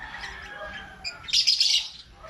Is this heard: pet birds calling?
yes